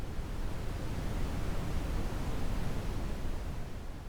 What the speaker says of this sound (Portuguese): ruído branco, rosa, marrom e outros,